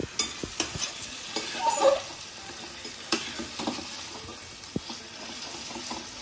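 Meat chops frying in oil in a home kitchen, a continuous sizzle broken by scraping stirs and small clinks of the utensil against the pan, close and clear.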